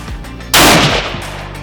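A single loud gunshot from a hand-loaded bullet being test-fired cracks out sharply, then fades into a brief rumbling tail.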